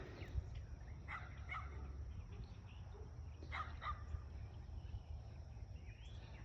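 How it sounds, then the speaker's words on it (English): A neighbor's dog barking from a distance in a backyard garden, a few faint yips and barks spread out over steady low background hum. "my neighbor's dog Penny is looking at my cats, I guess, or hears me and doesn't see me."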